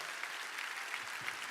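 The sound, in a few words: audience applauding people coming forward in church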